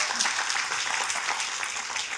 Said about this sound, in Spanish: Démosle ese fuerte aplauso al Señor.